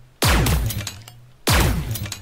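Flak cannon in an indie video game blasting like a shotgun: two loud, punchy shots about 1.3 seconds apart, each a sharp crack with a rattling, debris-like tail fading out over a low steady hum.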